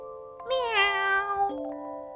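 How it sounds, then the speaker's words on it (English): A cat gives one clear, drawn-out meow with a rising then falling pitch, close and alone over a faint steady tinkling tone. "Meow."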